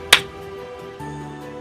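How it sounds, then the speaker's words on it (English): A single sharp hand clap rings out once near the start, followed by a quiet tonal hum and room tone; one beat of counting along with a lesson on early arithmetic for children. "clap and count together"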